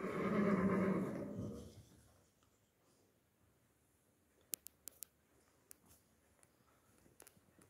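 A nine-year-old chestnut roan horse whinnies loudly for about two seconds, then fades into quiet with a few faint sharp clicks and taps.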